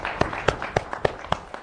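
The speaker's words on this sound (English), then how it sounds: "So would the students join me in applauding the reviewers?" Students applaud reviewers at an architecture studio review, a short burst of clapping with distinct strong beats about a quarter second apart, close and fairly loud.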